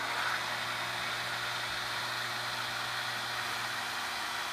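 A Leader Ecomatic 110 water pump runs close by with a steady, even motor hum and a hiss of broadband noise. The drone holds constant with no talking.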